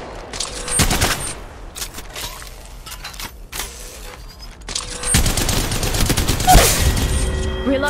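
Bursts of automatic gunfire in Apex Legends, with rapid repeated shots early and a louder, denser stretch of firing in the second half, mixed with game effects and brief clatter.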